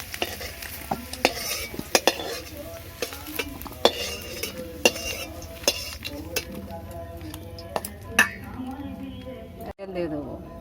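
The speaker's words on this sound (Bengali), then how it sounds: "আলুটা ভাজা হয়ে গেছে, তুলে নেব।" A spatula scrapes and clinks against a frying pan as fried potatoes are lifted out, with a string of sharp metallic taps at irregular intervals over a faint low sizzle.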